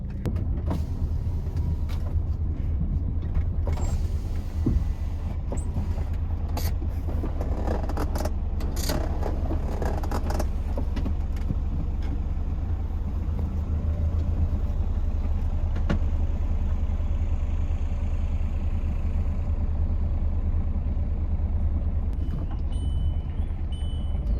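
A car engine, just started after servicing and once reported seized, idles steadily with a deep, continuous rumble heard close, with scattered clicks and knocks over the first half.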